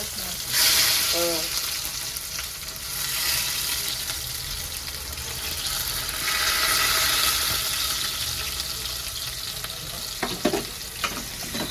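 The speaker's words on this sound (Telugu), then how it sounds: "ఫస్ట్ ఆయిల్ వేసుకుంటాము. తర్వాత ఉల్లిపాయ, పచ్చిమిరపకాయ ఆయిల్లోని ఓకే." Chopped onion and green chillies fry in hot oil for a fish curry, giving a loud, continuous sizzle that swells and eases as it is stirred, with a few clinks of a spoon against the pan near the end.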